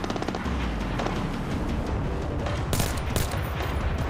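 Gunfire in Splinter Cell Blacklist, a sustained barrage of rapid shots with heavier booms, loud and continuous throughout with almost no talk.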